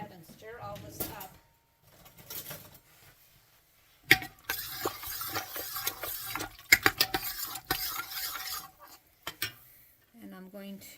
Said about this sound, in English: And I'm going to go ahead and stir all this up.